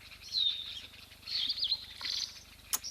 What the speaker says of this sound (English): So we have some firefinches here.